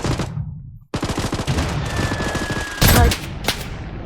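Rapid bursts of gunfire from the mobile shooter game Blood Strike, a dense rattle of shots with a brief pause and a louder blast near the end.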